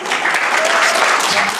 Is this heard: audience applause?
yes